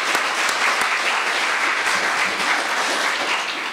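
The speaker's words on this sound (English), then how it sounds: "big round of applause for Jens." An audience at a city policy debate applauds a speaker, a dense, sustained wash of clapping from a large crowd that holds steady and fades slightly at the end.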